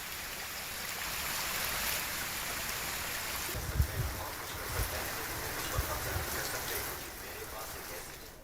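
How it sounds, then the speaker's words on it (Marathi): A stream in Hingoli, flooded after heavy rain, rushes as a continuous broad wash of water with a few low thumps and surges, steady and moderately near. "या पावसामुळे इथल्या परिसरातल्या ओढ्याला सुद्धा पूर आलाय"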